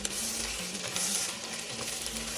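Carrots frying in hot fat for plov, a dense continuous sizzle close up with faint stirring scrapes, brief and without talk.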